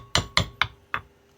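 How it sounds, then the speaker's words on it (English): Four sharp metallic hammer blows drive a ball joint down into place with a press during a Mopar suspension repair, close and loud, evenly spaced with a fifth strike starting at the end. "I just use this to hammer this down the rest of the way."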